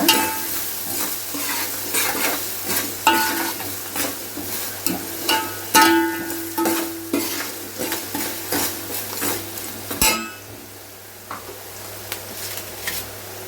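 Onions sizzle steadily in a hot pan while a spatula scrapes and clinks against the metal in a quick, regular stirring rhythm, close and fairly loud throughout.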